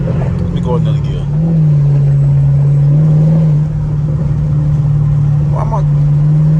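A straight-piped Camaro SS pulls hard through another gear at night, its loud, steady engine drone rising slightly in pitch, with someone talking over it.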